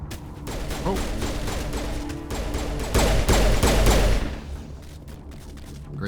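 Gunfire in the video game Mass Effect cracks out in rapid bursts, loud and close, building to a dense volley before tapering off.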